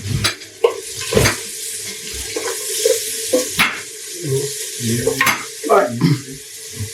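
Sausage and vegetables fry in a full pot, giving a steady sizzle broken by repeated scrapes and clacks of a stirring utensil, loud and close with no talking.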